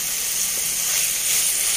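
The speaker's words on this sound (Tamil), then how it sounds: "வெங்காயம் தக்காளி நல்லா வதங்கட்டும்." Onions and tomatoes sauté in a pan for goat intestine curry, giving a steady, close hiss of sizzling that holds evenly throughout without a break.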